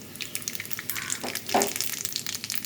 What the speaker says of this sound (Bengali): এবার তেলের ওপর দিয়ে দেবো ফোড়নে রাঁধুনি আর তেজপাতা